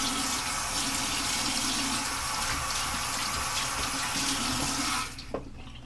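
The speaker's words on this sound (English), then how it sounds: "I'm just gonna wash the excess that's on my hand off" Hands being washed under a running tap in a sink, a steady loud rush of water that cuts off abruptly near the end, leaving quiet room tone.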